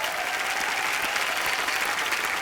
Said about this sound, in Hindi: एक बार बच्चा के लिए जोरदार तालियां